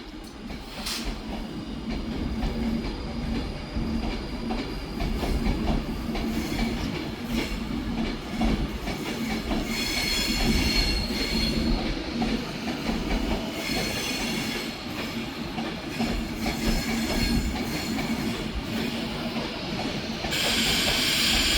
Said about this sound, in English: the 1435 Avanti Westcoast service to London Euston 390122